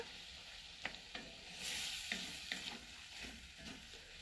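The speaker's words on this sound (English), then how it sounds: "Give that a stir." Food in a pot on a Kamado Joe grill is stirred with several soft scraping strokes over a faint, steady sizzle; quiet and close, with no speech.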